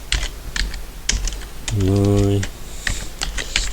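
Keys clatter in quick irregular bursts as someone types on a computer keyboard, close and crisp, with a brief voiced word spoken in the middle of the typing.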